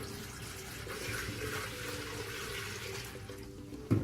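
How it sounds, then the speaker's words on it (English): Water pours from a bucket into a sink as a faint, continuous splashing rush lasting a few seconds, followed by a short clunk at the end. "I'm going to dump the water out into the sink."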